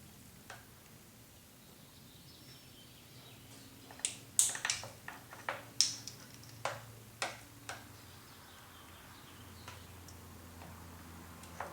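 Sharp snips of cutters biting through the headlamp wire ends on a 2010 Ford F150, a cluster of crisp clicks close by with a few scattered ticks before and after, no talking.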